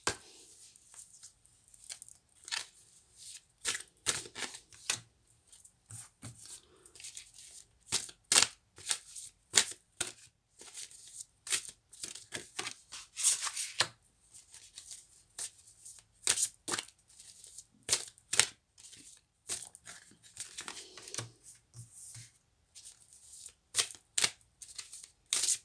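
Tarot cards are shuffled over and over for a twin flame reading, a long run of close, crisp riffling and slapping bursts in an uneven rhythm.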